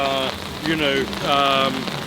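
Steady rain falls outdoors in Sydney, a continuous wash of patter beneath a person talking loudly and almost without pause over it.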